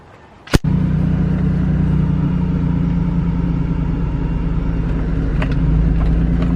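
A pickup truck just lowered off a jack after tie rod end replacement sets off on a test drive, a sharp thump at the start followed by a steady low engine rumble close by.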